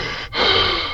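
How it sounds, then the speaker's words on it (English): Close breathing straight into a microphone, heard as a rough, airy exhale, then a brief pause and a sharp inhale, loud and near. "You can hear me breathing."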